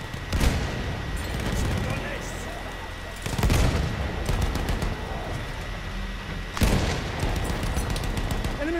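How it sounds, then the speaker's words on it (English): Heavy bursts of machine gun fire in Battlefield 1 during a tank assault on the Gas Assault map, three loud volleys spaced a few seconds apart over a constant rumbling battlefield din. "Enemy machine gun over there."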